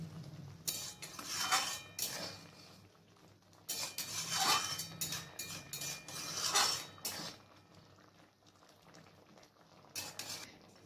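Fried fish egg fritters being stirred into simmering gravy in a pan, with a utensil scraping and clinking against the metal in several uneven bursts, close and fairly quiet, no talking.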